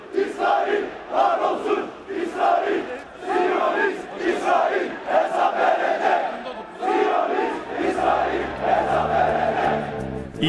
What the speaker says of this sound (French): Immédiatement, la foule s'embrase.